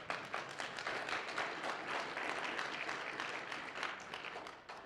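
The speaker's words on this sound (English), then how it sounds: "Yes, if you want to clap" Steady audience applause at a security conference closing session, a dense continuous patter of many hands clapping at moderate distance for the full stretch, with no talking over it.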